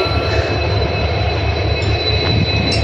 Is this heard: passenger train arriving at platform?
yes